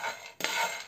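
Dried bread rusks, toasted in a frying pan for homemade bread kvass, are poured with a short loud clattering rattle, preceded by a brief softer rustle.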